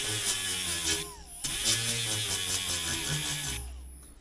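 Power tool driving a screw out of a cracked motorcycle fender, a steady high whir in two sustained bursts separated by a short pause, close and fairly quiet.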